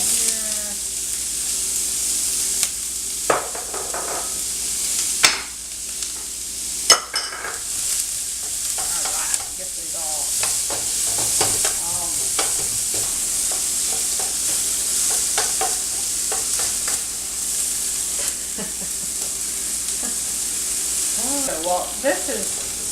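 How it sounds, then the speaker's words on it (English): Chopped onions and scallions fry in a pan for a stuffed peppers recipe, a steady sizzle running throughout with frequent scraping stirs and clinks close up. "we're going to cook the onions and the scallions for 4 to 5 minutes"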